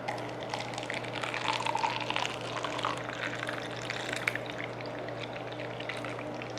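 Vodka-spiked witch's brew cocktail being poured from a shaker into a glass, a steady continuous liquid stream over several seconds with no talking.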